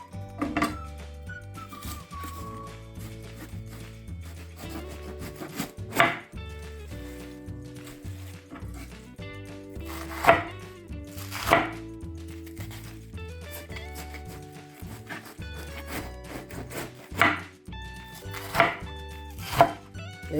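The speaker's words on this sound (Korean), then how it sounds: "이렇게 썰어 주시면 돼요." A knife slicing napa cabbage on a cutting board while making white kimchi, a few scattered crisp chops and thuds spaced several seconds apart, close and fairly quiet, no talking.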